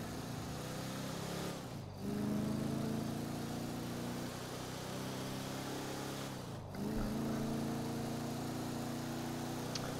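A car in GTA 5 drives along with a steady mid-pitched engine hum, briefly dipping twice as it shifts or eases off before pulling again, moderately loud and without talk.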